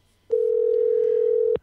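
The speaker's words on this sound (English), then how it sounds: "That's his phone ringing." A single steady electronic telephone tone sounds during a call, loud and close, held for just over a second before cutting off.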